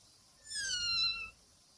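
A cat in the game Forest of Drizzling Rain gives a single high, drawn-out meow, faint and thin over quiet ambient hiss.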